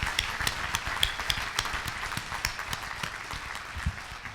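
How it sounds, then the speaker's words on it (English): Audience applause at a city State of the City address honoring the mayor, dense steady clapping from a crowd lasting throughout, fairly even in loudness with scattered sharper claps. "I think we need to give one more round of applause for Mayor Bennett"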